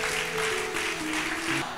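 A church congregation claps in sustained, dense applause, with low steady musical tones underneath and no talking.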